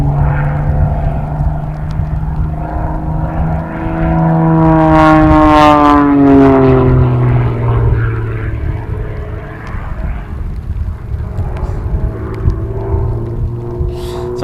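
An aerobatic propeller plane slow rolls during an unlimited freestyle competition, its engine droning loudly with a rising and falling pitch sweep as it passes, a rumbling steady hum continuing afterward.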